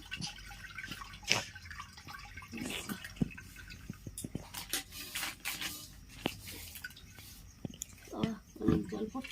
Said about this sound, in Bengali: দেখো জল পড়ছে দেখেছো কত জল থাকে